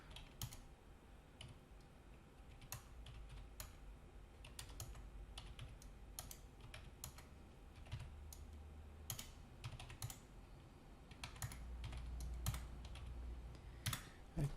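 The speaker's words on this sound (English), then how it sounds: "Quickly type this in, 51." Numbers tapped quickly into a calculator keypad: a sparse series of soft, close button clicks in short irregular runs over a quiet room background, with no talking.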